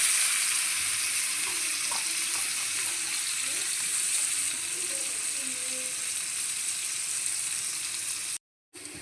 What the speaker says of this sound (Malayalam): അപ്പോൾ ആ എണ്ണയിൽ തന്നെ ഞാനിത് ഉള്ളി ഇടാൻ പോവും